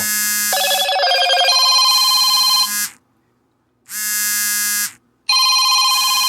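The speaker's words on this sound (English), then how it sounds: "If y'all hear phone ringing, please forgive me." A phone ringtone rings loudly and close by in a home kitchen, playing a repeating electronic melody in bursts separated by short silences.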